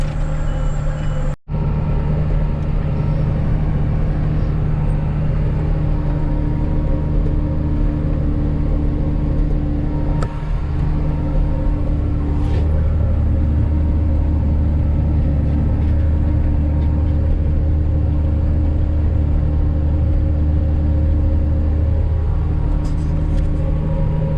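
A Case 7210 Magnum tractor's diesel engine hauling a plough, a steady loud rumbling drone that carries on throughout with a sharp brief dropout near the start.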